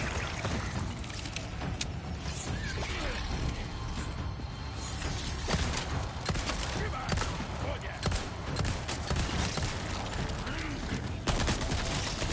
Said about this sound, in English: I'm trying to see if I can shoot his mask off.